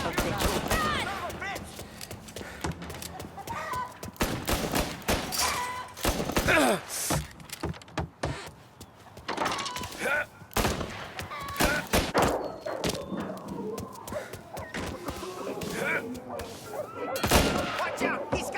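Rapid gunfire in Mafia Definitive Edition, with repeated sharp shots and bursts scattered across the scene among thuds, while voices shout underneath.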